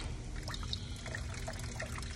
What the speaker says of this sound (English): And we're just gonna let this radiator drain completely.